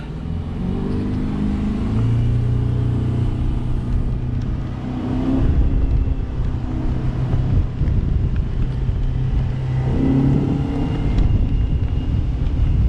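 A 2014 Bennington S24 tritoon cruises at about 25 mph near 4,200 RPM, a steady outboard drone under wind buffeting and water rush, loud and continuous with no talk.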